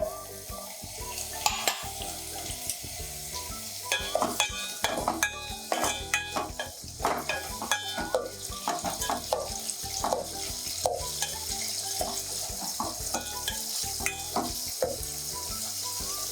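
Onions and green chillies fry in a mix of ghee and oil, a steady sizzle broken by repeated scraping and clinking of a spoon stirring against the pan, close and fairly loud with no talking.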